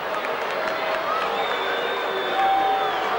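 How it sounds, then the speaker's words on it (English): Large rugby league stadium crowd in 1982 voicing displeasure at a referee's call, a broad, sustained roar of jeers and shouting that swells slightly near the end, with a commentator talking over it. "Well, the crowd don't like it."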